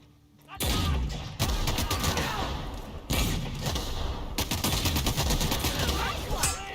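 Rapid bursts of gunfire from an enemy in the video game Dr. Goodman, loud and close, starting sharply after a quiet moment and repeating in dense volleys with heavy thuds, continuing throughout the clip.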